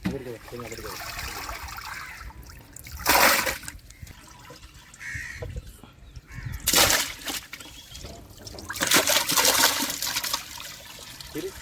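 Handfuls of anchovies are scooped into a tub of salted water during a large batch of dried-fish making, producing three loud splashing bursts over a running watery background, with voices faintly present.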